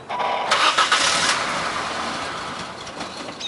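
A car engine cranks in the driver's attempt to start it, a loud burst of starter grinding that fades into a steady whirring hum without clearly catching.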